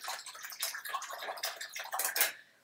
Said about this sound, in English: rinse that brush